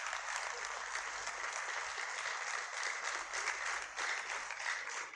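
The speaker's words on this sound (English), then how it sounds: "I can understand why the clapping has to last that long." Sustained audience applause fills a university inaugural lecture hall at the University of Benin, a dense, even wash of clapping that carries steadily from start to finish without any voices on top.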